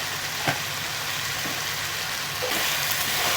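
Steady, loud sizzling of country chicken sautéing with turmeric in a hot pan, with a couple of faint clinks of stirring.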